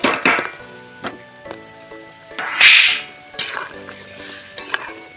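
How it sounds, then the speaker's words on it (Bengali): Fried jackfruit seed koftas drop into a simmering spiced curry in a pan, with scattered close clinks and spoon clatter and one brief hissing splash in the middle. "আমি দিয়ে দিচ্ছি এইখানে কপ্তা ভাজাগুলো"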